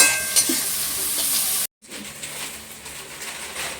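Chopped onion and capsicum sizzle in hot oil in a pan for pasta, with stirring scrapes and crackles close by; a brief dropout of sound midway, then softer frying resumes.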